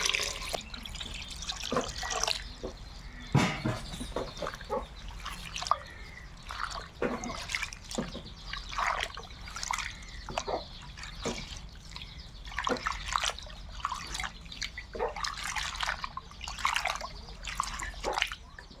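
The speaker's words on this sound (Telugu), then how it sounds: "ఇట్లా వచ్చినాకనే రెండు సార్లు శుభ్రంగా మంచినీటితో కడిగేస్తాను" Dried korameenu fish being rinsed in fresh water, with close, quiet splashes, drips and trickles of water and occasional handling sounds in an irregular rhythm, no voices.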